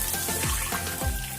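Water poured into a pan of cooking tomato and rice, a dense hissing splash with bubbling pops running steadily and close for the whole stretch.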